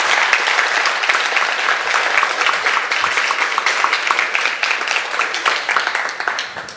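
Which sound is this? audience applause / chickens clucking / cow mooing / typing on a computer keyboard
audience applause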